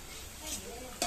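Cooked stuffed bitter gourd is moved from a pan into a dish, with soft stirring and scraping over a faint sizzle and a brief utensil clink at the end.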